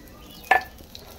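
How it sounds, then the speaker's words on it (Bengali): Two dried red chillies and panch phoron dropped into hot oil for a pumpkin dish give one brief, bright burst of sizzling that quickly settles, close and alone with no talk. "এবার আমি এখানে দিয়ে দিচ্ছি 2টো শুকনো লঙ্কা, আর দিয়ে দিচ্ছি সেই কুটে রাখা 5 ফোড়ন।"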